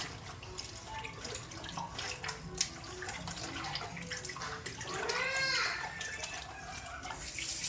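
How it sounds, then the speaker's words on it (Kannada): Running tap water splashing over raw chicken being washed with turmeric and salt in a kitchen sink, a steady soft stream with small drips and splashes, fairly faint and continuous. "ಸ್ವಲ್ಪ ಅರಿಶಿನ ಉಪ್ಪು ಎಲ್ಲ ಹಾಕಿ ತೊಳಿಬೇಕು ಚಿಕನ್"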